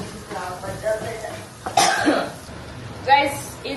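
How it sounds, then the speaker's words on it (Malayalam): Someone in a home kitchen coughs and clears their throat in a couple of sharp, close bursts while cooking curry and fish, with quieter vocal sounds between them. "ചുമ"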